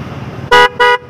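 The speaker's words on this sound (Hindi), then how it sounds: "पूरा जबरदस्त हॉर्न" Horn of a modified Bajaj Pulsar 135 motorcycle fitted with a dual meter, two loud, close, bright honks in quick succession, each about a fifth of a second, over low idle noise.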